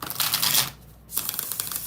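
Tarot cards are shuffled in quick riffling bursts, faint and close, with a short pause before another rapid flurry of papery flicks.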